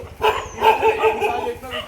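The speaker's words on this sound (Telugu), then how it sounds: "ఈ కుక్కలు" Dogs bark in short, close bursts outdoors during a walk along a sunny village route, the yaps repeating quickly over a low background rumble.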